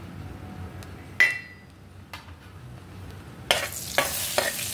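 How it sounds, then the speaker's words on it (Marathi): Whole spices drop into melted butter in a pan at low heat, with a few sharp clinks against the metal, then a quiet stretch before a louder burst of sizzling and stirring at close range, no voices. "त्यामध्ये मी प्रथम यात आपले सर्व खडे मसाले टाकले."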